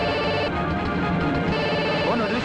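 A mobile phone rings loudly and continuously in a tense indoor scene, a dense electronic ringtone filling the whole short moment with no clear pauses.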